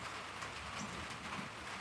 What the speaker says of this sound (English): Sitting outside listening to it rain.